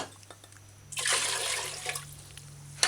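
Four cups of water poured into a pot for hominy corn porridge, a steady splashing gush that starts abruptly, runs about a second and a half, then tapers off.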